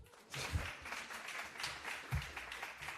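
A small audience at a Bisexual Awareness Week celebration evening claps, scattered uneven claps swelling after a brief quiet start and continuing at a modest, somewhat distant level.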